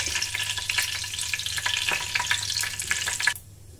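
Whole spices, cumin, cloves, peppercorns, cinnamon and a dried chili, crackle and sizzle in hot oil while being stirred, with dense close spattering and scraping that cuts off abruptly near the end.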